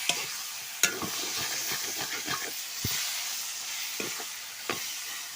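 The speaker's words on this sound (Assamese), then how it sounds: "একদম জুই কমাই দি ভাজি আছোঁ এই আলুখিনি" Potatoes cut into fairly large pieces fry in a pan over low heat, giving a steady close sizzle and hiss broken by occasional sharp clicks and scrapes of stirring.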